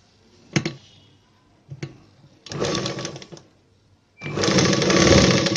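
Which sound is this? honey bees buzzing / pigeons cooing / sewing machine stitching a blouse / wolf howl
sewing machine stitching a blouse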